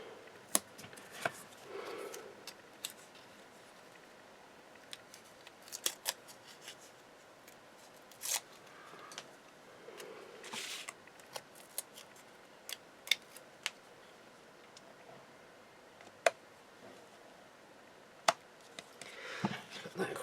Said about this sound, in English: Cut that one down.